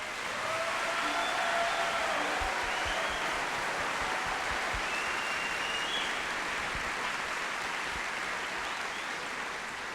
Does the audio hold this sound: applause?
yes